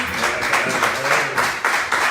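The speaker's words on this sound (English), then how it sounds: "give Tanya Griffin a round of applause, please" An audience claps and applauds steadily, a dense wash of hand claps with a few swells, no clear voices on top.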